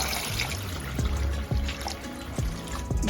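Water pours and trickles into a cooking pot on a gas stove while beef pilau with rice is being made, a steady splashing stream with a few heavier drips.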